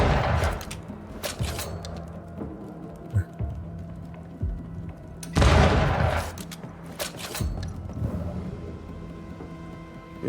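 Bursts of rapid gunfire from the game Banishers: Ghosts of New Eden, a few sharp volleys over a steady low hum, with faint talk now and then.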